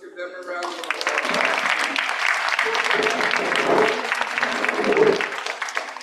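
Sustained audience applause at a school wellness evening, dense clapping from a room full of people that swells and holds steady for several seconds, with voices faintly mixed in.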